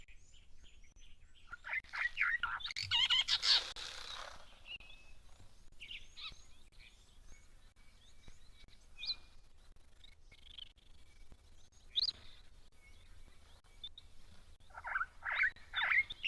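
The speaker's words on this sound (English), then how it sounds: "some fire finches and look like I think a canary" Small fire finches and a canary chirp and trill in bursts at a waterhole in Kenya, with scattered high calls and pauses, set against a quiet outdoor background.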